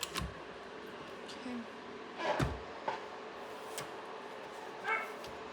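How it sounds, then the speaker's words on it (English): A small, anxious dog barks and whimpers in short, scattered yips a little way off. The sounds are faint against a quiet room background, with a few soft knocks between them. "that would be my high anxiety little dog that has decided he wants in"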